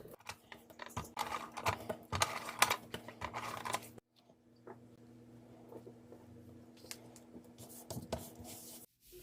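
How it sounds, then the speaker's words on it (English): An adhesive tape gun runs along the edges of a handmade Christmas card, giving close, quiet scraping and rubbing with small taps in irregular bursts, a brief pause, then softer rubbing. "I'll just use my adhesive tape gun and just do the edges."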